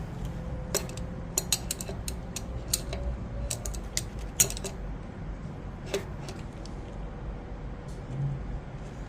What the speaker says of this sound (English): Holding the axle with the screwdriver, going to kind of pinch them together to tighten it.